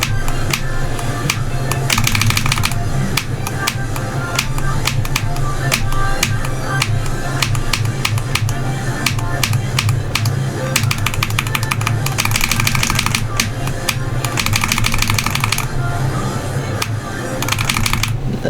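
Rapid clicky keystrokes on a cheap five-dollar keyboard, played as a steady dense rattle for the whole stretch over a steady low background hum, loud and close.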